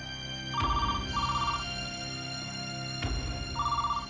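A telephone rings in two bursts of a doubled electronic trill, with soft clunks at each start over a steady background hum.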